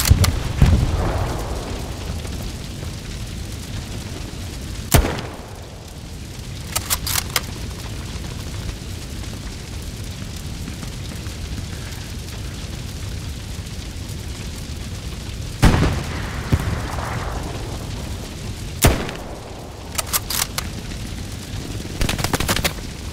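Bombing run in the World War II shooter Hell Let Loose: heavy broadband blasts and booms rolling in at intervals, with sharp explosive cracks around distant gunfire and a constant low battlefield rumble, no voices.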